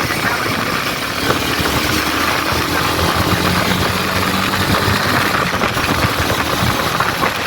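A Royal Enfield Himalayan 450 motorcycle engine runs at a steady, loud, close idle, a continuous mechanical rumble with a faint knocking texture. No voices are heard.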